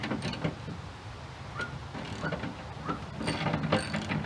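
A 1/2 inch wrench loosening old tailgate bolts on a Chevrolet Silverado pickup, faint metallic clicks and ratcheting taps at close range, irregular and sparse against quiet background.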